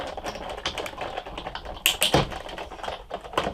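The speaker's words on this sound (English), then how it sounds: "So go ahead and crank this through." A Sizzix die cutting machine being cranked by hand with a cutting pad sandwich, close rapid clicking and ratcheting taps with a couple of louder clunks, no talk.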